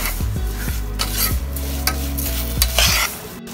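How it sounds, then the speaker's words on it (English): Sugar melting in a pan on the stove for bread pudding, stirred steadily: repeated metal scrapes and clinks of the spoon against the pan over a soft, constant sizzle, close and fairly loud, with no speech. "you have to keep stirring this, otherwise the sugar will burn"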